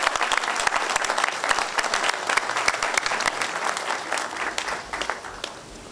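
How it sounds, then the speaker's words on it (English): A large audience at the Monongalia County Justice Center dedication in Morgantown, West Virginia, applauds in a dense, steady wash of clapping that holds for about six seconds before easing slightly at the end. "Can we give a hand of applause for Shannon?"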